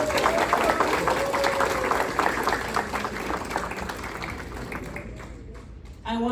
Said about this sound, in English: a special round of applause for Ballet Argentina